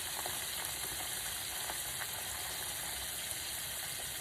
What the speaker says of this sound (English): we don't want to overcrowd it because we want it to fry up really nice and well